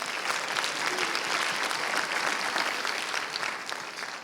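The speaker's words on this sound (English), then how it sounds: "Come on, give him a hand clap." A crowd claps together in a steady burst of applause, fairly loud and continuous, fading slightly at the end.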